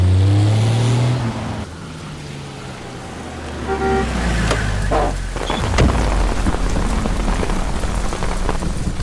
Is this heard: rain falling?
yes